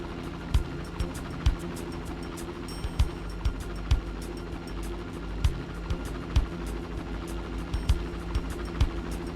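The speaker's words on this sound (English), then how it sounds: "Chopper 1 on scene. Chopper 1 in position." A police helicopter in the video game Police Quest SWAT 2 drones steadily with a low rotor hum, broken by sharp periodic clicks or thumps, at moderate volume without talk.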